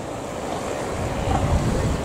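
Low rolling wash of waves in the fishing harbour at Camara De Lobos mixed with wind buffeting, a steady dull roar swelling slightly near the end.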